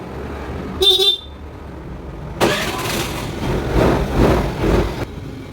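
A two-wheeler engine is started after its regulator socket is refitted while tracing a battery charging fault: a short high beep comes first, then the engine catches and runs with a steady, rough idle close by.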